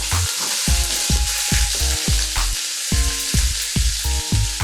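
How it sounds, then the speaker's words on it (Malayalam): Ginger garlic paste fries in hot sunflower oil with a loud, close, continuous sizzle. Steady clacks of a spoon stirring against the pan sound over it. "നമ്മുടെ ഓയിൽ നന്നായിട്ട് ചൂടായി വരുന്ന സമയത്ത് നമുക്ക് ഇഞ്ചി വെളുത്തുള്ളി പേസ്റ്റ് ഇതിലേക്ക് ഇട്ട് കൊടുക്കാം."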